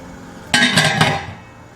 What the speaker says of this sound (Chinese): 给它拌均匀一下。